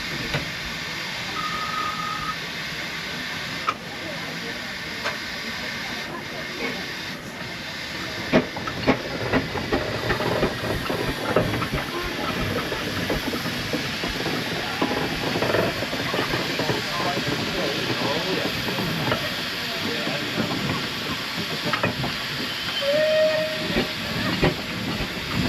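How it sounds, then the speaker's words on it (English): An Aveling and Porter steam road locomotive in military livery hisses steadily at a steam festival, with irregular clanks and knocks over a dense, continuous roar and a couple of faint short whistle tones. "Here we can then see an Aveling and Porter road loco in a military livery"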